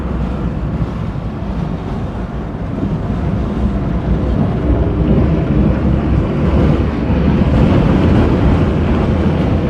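Strong wind buffets the microphone with a continuous roaring rush, and a low vehicle rumble runs underneath.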